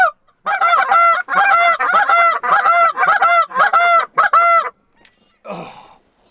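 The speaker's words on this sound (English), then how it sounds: "geese out 12 o'clock" A flock of geese honks repeatedly in a loud, rhythmic series of nasal calls, near and clear, then trails off into a few fainter honks.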